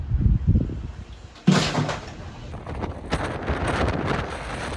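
Strong Hurricane Milton winds in Sarasota roar and buffet the microphone in gusty surges, loud and close, with rattling noise mixed in and no voices.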